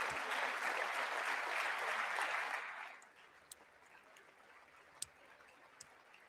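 Audience applause at a State of the Union address, a dense, loud crowd clapping that fades out after a couple of seconds and leaves a quiet room with a few scattered claps and ticks.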